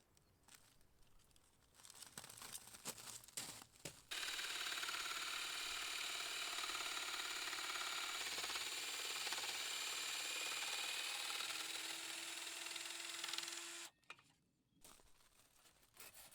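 A small power saw makes the first cut for a shed, a loud sustained whining buzz lasting about ten seconds, with softer rustling and handling noises before and after.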